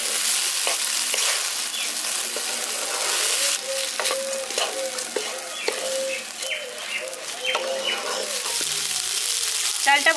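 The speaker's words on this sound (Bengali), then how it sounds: "এবার চালটা ভালো করে মিশিয়ে নিচ্ছি" Rice for green peas pulao being stirred and fried in a pan: a close, continuous sizzle with regular scraping and tapping of the spoon, while birds chirp faintly in the background.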